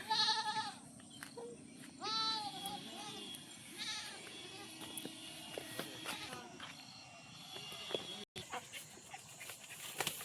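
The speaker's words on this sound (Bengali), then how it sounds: "ছাগলটা ডাকছে" Several goat bleats, wavering and nasal, repeating at irregular intervals outdoors in the Sundarbans, with a dog and background activity audible.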